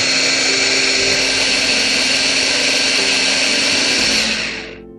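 An electric beater whirs steadily through cake batter for a cherry almond loaf, a loud continuous motor hum with no talk, winding down and cutting off near the end.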